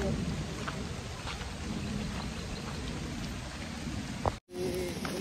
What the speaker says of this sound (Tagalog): Bilis, lakas na ulan.